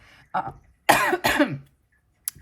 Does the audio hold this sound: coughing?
yes